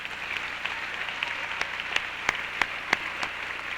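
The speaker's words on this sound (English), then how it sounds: "One more time, a round of applause for these award winners." Applause from a school fine arts assembly audience for award winners, a soft distant wash of clapping with a few sharper individual claps standing out near the end.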